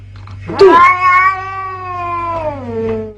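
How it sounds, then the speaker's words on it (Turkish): A cat gives a long, drawn-out meow that wavers in pitch and falls at the end, loud and close. "Sahibinden azar işiten kedi defalarca suçunu soruyor."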